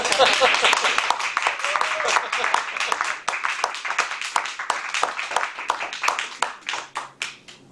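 An audience at a Toastmasters meeting applauds, with dense, steady handclapping from a small room crowd that slowly tapers and fades, while a voice briefly talks near the end.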